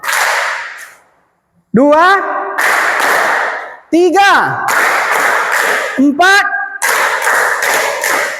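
A class of vocational high school students in a PE lesson claps in time as a teacher counts aloud; loud bursts of clapping fill the gaps between his spoken numbers, close and sharp.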